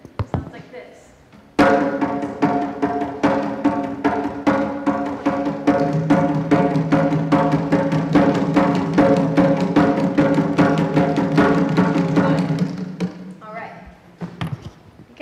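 Rhythmic drum pattern played on a small hand drum by a group learning a simple repeating 'I like pizza' rhythm, a steady run of close, fairly loud strokes lasting about eleven seconds with a faint voice underneath.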